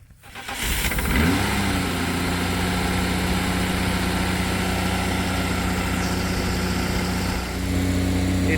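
A Mitsubishi Magna street stock car engine cranks briefly, catches within the first second, then settles into a steady, loud idle with a constant low hum that holds through the rest, with a slight dip near the end.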